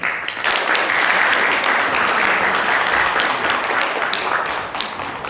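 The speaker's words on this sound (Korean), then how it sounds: "호명되면 큰 박수로 환영해 주시기 바랍니다." An audience at a university presidential candidate debate applauds steadily for several seconds, a dense wash of clapping that stays loud throughout and thins slightly near the end.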